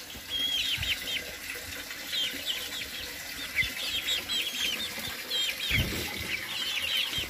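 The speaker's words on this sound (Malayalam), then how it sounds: "ഇത് ഏകദേശം ഒരു 20 നാടൻ കോഴികളാണ് ഇതിൻ്റെ അകത്തുള്ളത്" About twenty free-range country chickens in a rooftop terrace coop cluck and chirp steadily at moderate distance, over a constant watery background like running water or a drinking system.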